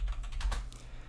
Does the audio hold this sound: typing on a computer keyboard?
yes